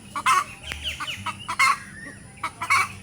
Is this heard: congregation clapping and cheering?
no